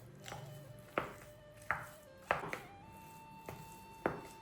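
A potato and onion filling for stuffed fried dough balls being mixed in a bowl, with about seven sharp knocks of a utensil against the dish at an uneven pace over a quiet background.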